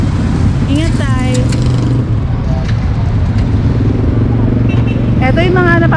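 Motorcycles passing on a busy road, their engines rising and falling in pitch as two revving machines sweep by amid a loud, constant rumble of traffic.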